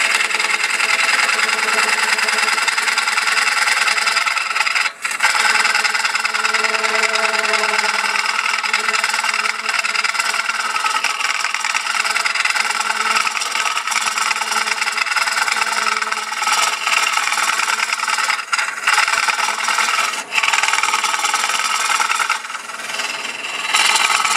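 Wood hollowing on a lathe, a gouge cutting up under the edge of a spinning piece, a loud steady scraping hum of motor and tool with occasional short catches and dips.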